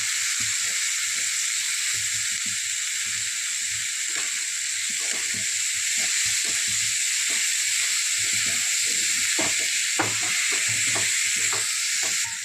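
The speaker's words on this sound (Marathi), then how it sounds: "आता टाकतात बारीक चिरलेलं वांगं" Finely chopped eggplant drops into a hot pan and sizzles with a steady, bright hiss, punctuated by faint clinks and stirring taps throughout.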